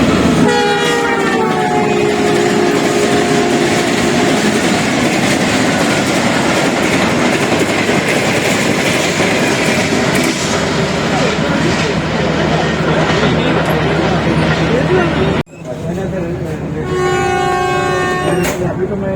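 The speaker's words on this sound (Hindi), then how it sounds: "7 तेज गाम अप्रोच कर रही है क्रॉसिंग के लिए, जिसे लोकोमोटिव ZCU20 6425 लीड कर रहा है।" Tezgam express train led by locomotive ZCU20 6425 roars loudly and steadily past a crossing in Pakistan, horn sounding, wheels clattering, with a voice speaking over it and a brief cut near the end.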